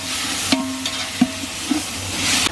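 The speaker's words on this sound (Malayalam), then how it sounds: "നല്ലോണം മിക്സ് ചെയ്യാം." Masala with fresh coriander leaves and mint sits in a pan for Ambur beef biryani and gets mixed, three or four spaced utensil knocks and scrapes over a faint sizzle.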